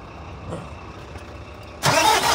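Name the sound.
ADL Enviro 200 MMC bus Cummins ISB engine starting up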